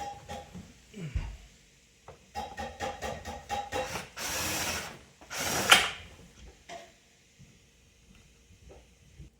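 Screws being driven into the pivot joint of a DUMOS gaming chair during assembly, heard as bursts of ratcheting clicks and scraping, rubbing metal close by, with short pauses and no talking.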